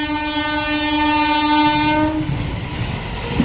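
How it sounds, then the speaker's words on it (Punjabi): Train arriving on a railway line near the Chawinda Devi temple area, a loud sustained multi-tone horn blaring for about two seconds, then the rumbling roll of wagons passing close by. "ਆ ਹੀ ਗਈ ਰੇਲ ਵੀ"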